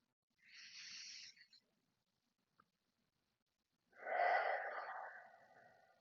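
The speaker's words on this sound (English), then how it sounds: "deep breaths in through the nose and out through the mouth. And just make the breaths nice and audible." Two deep, audible breaths during a meditation, a softer hissing inhale through the nose followed after a pause by a louder, fuller exhale through the mouth, close and alone in a quiet room.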